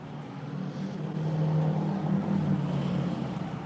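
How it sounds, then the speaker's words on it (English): Cars pass on a busy street outside a home garage, a low rumbling engine drone that swells and holds at moderate loudness for several seconds with no voices. "Sorry about the loud cars."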